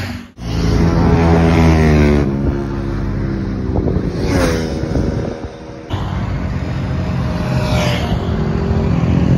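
A motorbike on a Sunday ride from Delhi to Noida, its engine drone rising and falling under heavy wind buffeting on the microphone, continuous and loud throughout.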